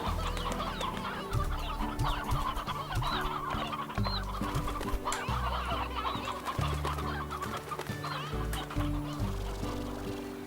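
Chickens cluck and roosters call repeatedly in the video game Slime Rancher, clear and close over a looping musical backing, with no talk.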